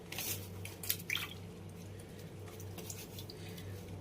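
Gourd leaves are rinsed by hand in a bowl of water, with soft drips and wet squishing splashes near and quiet over a steady low hum, no voice heard.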